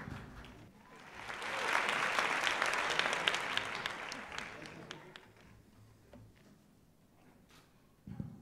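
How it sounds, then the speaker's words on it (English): Applause from an audience greeting a speaker at a youth leadership and women entrepreneurship event, swelling into a sustained round of clapping that fades out, with a brief burst of claps at the very end. "Please welcome on stage with a big round of applause"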